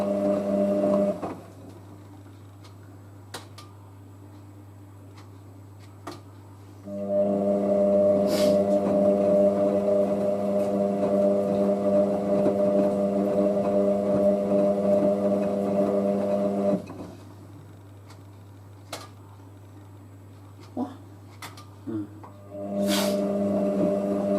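A Hotpoint WM63 Aquarius 1100 washing machine runs its 40°C acrylics programme, giving a steady motor and drum hum with tonal whine in long stretches, separated by quieter pauses and a few small clicks.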